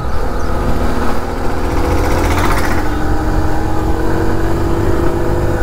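TVS XL 100 moped engine revving hard under throttle, a loud, steady buzzing drone that climbs in pitch as the throttle opens, close up and with no talk over it.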